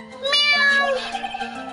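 Cat meows in the video game Phoenix Wright: Trilogy, one clear drawn-out meow followed by softer trailing calls over a low steady tone.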